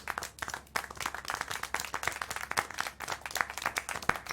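Clapping rings out in the adventure game Syberia: The World Before, a run of distinct, fairly close hand claps with uneven rhythm and no speech over it.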